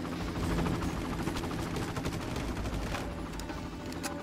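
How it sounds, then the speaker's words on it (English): Helicopter in the video game Far Cry, a dense continuous rotor roar mixed with crackling gunfire, loud and steady throughout. "I think they got a chopper again."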